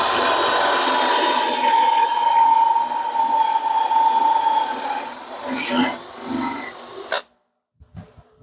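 A power drill with a 1.5-inch Forstner bit whines steadily as it bores into wood, the pitch wavering, then winds down, followed by brief knocks and clatter.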